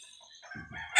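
A rooster crowing and clucking, a brief close burst of fowl calls that rises in loudness at the end of a very short moment.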